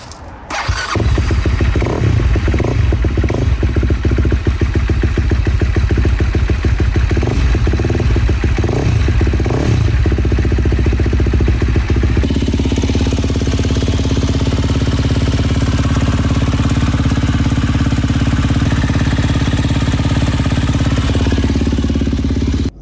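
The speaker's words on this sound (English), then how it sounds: "Engine's running great. It's sounding really good." A KTM 250 SX-F four-stroke dirt bike cranks and fires into a loud, clattering rev, then settles into a steady, rough idle that carries on up close with no talking.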